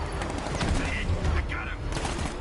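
Gunfire in a Batman video game comes as dense, continuous bursts of rapid shots that stay loud throughout, mixed with shouting voices.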